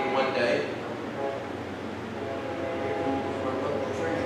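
A local train passes nearby with a continuous low rumble and broad rolling noise, and a faint horn-like tone rises briefly, while people talk over it.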